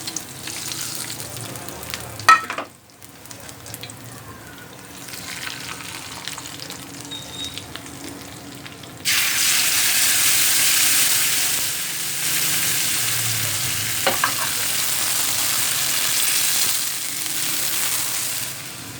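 Tadka tempering for saag frying and sizzling in a pan, with a steady hiss that jumps louder partway through and continues strongly, with a few stirring clinks, no talk.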